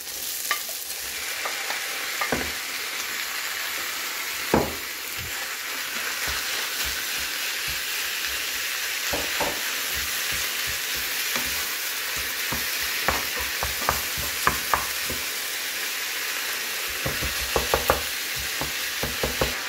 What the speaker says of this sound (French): maintenant c'est le moment d'ajouter la viande. Moi, je vais ajouter 500 g de viande hachée